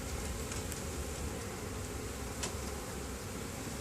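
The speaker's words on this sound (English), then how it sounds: "That's bees." Honeybees in a hive in a bee garden, a continuous dense buzzing drone heard close and fairly loud, with faint rustling and a few brief louder spikes.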